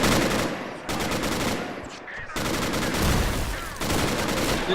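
Sustained, dense automatic gunfire in the Men of War Assault Squad 2 war game as a tank opens fire on soldiers, loud, continuous bursts with short dips between volleys and no talk over it.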